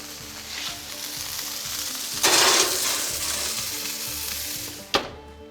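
Filet mignon sears loudly in a hot pan, a steady close sizzle that flares sharply as the steak is flipped, followed by a brief metallic clink of the pan or utensil near the end.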